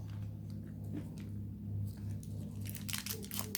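Chewing a Hershey's chocolate bar with almonds, close crunching and soft squishy bites with crinkly mouth noises, quiet and intimate with no talking.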